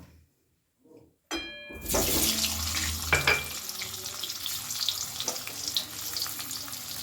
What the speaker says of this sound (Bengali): ডিম ভাজা তেলের মধ্যেই আমি আলুগুলোকেও ভেজে নেব